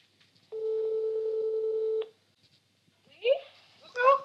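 A telephone call being placed to a grandmother's phone: a steady ringback tone sounds clearly for about a second and a half, then a voice answers afterward.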